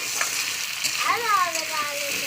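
Carrots and potatoes frying in a pan, a steady close sizzle with faint stirring scrapes throughout and a brief high squeak partway through.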